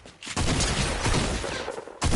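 Rapid, continuous minigun fire in a video game, a dense loud burst of shots running nearly two seconds with a short gap near the start and a fresh burst at the end.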